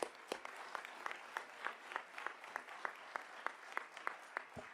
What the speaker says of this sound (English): If we can give everyone a round of applause.